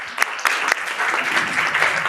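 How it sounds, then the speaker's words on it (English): An audience at a construction law and contracts masterclass claps steadily, a dense patter of many hands filling the room, fairly close and even, with a few sharper claps near the start. "Can we please give a round of applause?"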